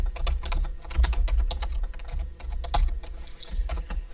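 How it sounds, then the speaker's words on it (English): Keys clatter steadily on a computer keyboard, close and fairly quiet, in quick irregular taps over a low background hum with no talking. "I'm going to type the phrase update browser."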